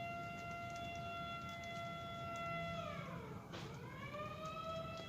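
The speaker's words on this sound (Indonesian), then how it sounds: "Ada sirine" A siren wails outside, its steady rising-and-falling tone sustained throughout, sweeping down and back up midway, heard indoors over low background hum.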